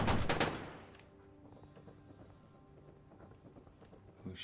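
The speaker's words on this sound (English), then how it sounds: "Who's shooting?" Gunfire in Fallout 76, a short burst of rapid shots at the start that fades into a quieter stretch, with another faint shot at the very end.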